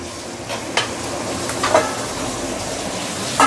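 Chinese pomfret cutlets frying in separated chili oil for a spicy tamarind broth, a steady sizzle with a few soft clinks and stirring knocks from the pot, close and continuous without talk.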